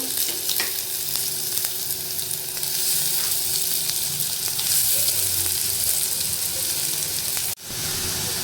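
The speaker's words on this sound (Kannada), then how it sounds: "ಎರಡು ಈರುಳ್ಳಿನ ಸಣ್ಣ ಹಚ್ಕೊಂಡಿದ್ದೀನಿ ಅದನ್ನು ಹಾಕ್ಕೋಬೇಕು ಹಾಕ್ಕೊಂಡು ಫ್ರೈ ಮಾಡಬೇಕು" Two chopped onions frying in a couple of spoons of hot oil in a pan give a loud, steady sizzle that holds throughout and drops out abruptly near the end.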